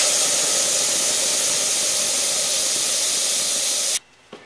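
Loud, steady air hiss rushing from a BMW F650GS motorcycle tire as the valve core is pulled, continuing for about four seconds before cutting off abruptly, followed by a brief small knock.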